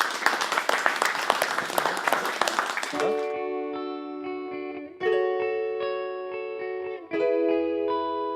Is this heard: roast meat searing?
no